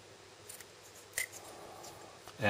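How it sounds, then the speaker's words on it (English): Snips of scissors trimming excess cured resin from a cast copy freshly pulled out of its mold, a few quiet, close cuts with a sharper snap near the middle and a rustle at the end. "And if I can't pull it off, I'm just going to cut it off."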